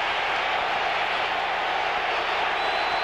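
Dense, roaring crowd noise at a football game in Candlestick Park, heard from field level at the closed infield end, a loud continuous wash with no breaks.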